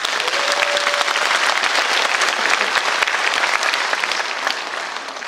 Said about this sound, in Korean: 여러분 스스로를 위해서 박수 한번 보내주십시오.